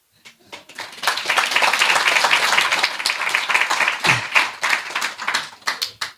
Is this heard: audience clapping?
yes